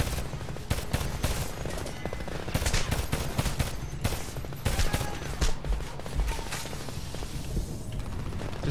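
Rapid machine gun bursts in the Homefront video game fire in dense, repeated volleys, loud and close, with metallic mechanism clatter between shots.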